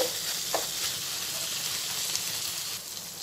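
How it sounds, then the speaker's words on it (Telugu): Eggplant pieces for a dried fish curry sizzle and fry steadily in a pan, a continuous close crackling hiss with a few soft stirring touches and no talk. "వంకాయ ముక్కలు కూడా త్వరగా ఉడికిపోతాయండి. సగం వేగిన తర్వాత ఈ టమాటో ముక్కల్ని వేసేసుకోవాలి."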